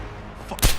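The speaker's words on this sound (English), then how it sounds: "Fucking gunshot!" A single sharp gunshot in the video game Deus Ex: Human Revolution on Xbox cracks out near the end of a short, quiet stretch of low background noise.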